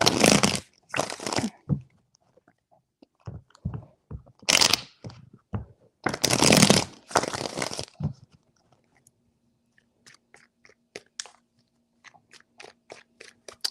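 A deck of tarot cards is shuffled by hand in several quick, crisp riffling bursts separated by short pauses, followed by faint scattered ticks.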